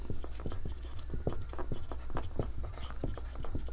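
A pen writing on paper: continuous close scratching with short repeated strokes and taps over a steady low background hum.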